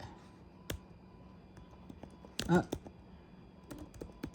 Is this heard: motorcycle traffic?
no